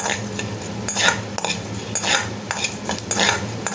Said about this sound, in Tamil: கோல்டன் ப்ரௌன் கலரில் வர்ற வரைக்கும் மீடியம் ஃப்ளேமில் வச்சு வதக்கி விட்டுருங்க